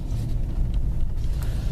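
A Ford Explorer Sport fitted with a Borla exhaust drives by, its deep, steady exhaust rumble sitting low and continuous with slight fluctuations.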